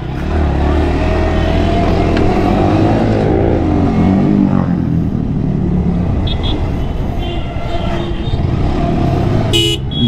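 A modified motorcycle riding through road traffic, a steady loud engine drone with passing cars and several sharp horn toots, one near the end, while a rider talks over the noise.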